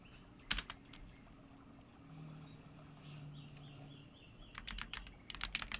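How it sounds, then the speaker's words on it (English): Faint bursts of computer keyboard typing during a tabletop Dungeons & Dragons game session: a short cluster of keystrokes, a quiet pause, then a longer run of rapid clicks near the end, with no talking. "I was typing it out."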